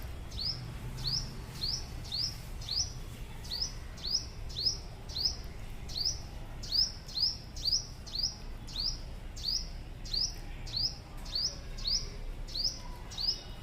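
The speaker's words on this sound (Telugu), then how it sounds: "ఈవినింగ్ టైంలో పక్షి ఏదో బయట అరుస్తుందని బయటకు వచ్చానండి." A small bird chirps loudly outdoors in the evening, sharp repeated calls in a quick regular series, about two per second, close and clear over faint background hum.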